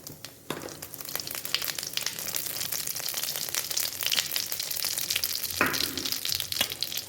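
Cumin seeds frying in hot mustard oil for tori sabzi, a loud crackling sizzle that jumps up sharply at the start and again later, with dense popping throughout; no voices.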